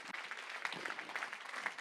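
Church congregation applauding and cheering after a call to acclaim the Lord, a steady wash of clapping and crowd noise that holds throughout with a few louder bursts.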